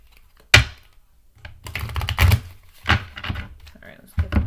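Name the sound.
shuffling a deck of cards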